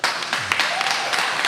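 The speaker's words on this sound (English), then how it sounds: "You really just wanted that round of applause." A short burst of hand applause, dense and fairly loud, carries steadily throughout; a brief voice-like murmur sits faintly underneath.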